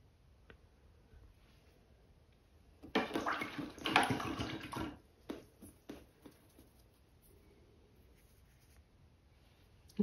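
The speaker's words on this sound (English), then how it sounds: "I'm just rinsing my brush out in between" Paintbrush swished and rinsed in a water cup between acrylic colours, a burst of splashy swirling lasting about two seconds, then a few softer taps and dabs against the rim in an otherwise quiet room.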